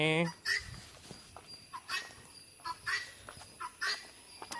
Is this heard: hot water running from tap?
no